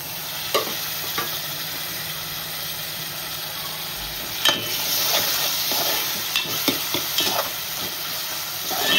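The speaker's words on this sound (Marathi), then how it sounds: "आता आपण टोमॅटो टाकूया" Tomatoes hit a hot frying pan of cooked onion for Aagri-style mutton biryani, a steady close sizzle with scattered scraping stir clicks and taps of a spoon against the pan, no voices.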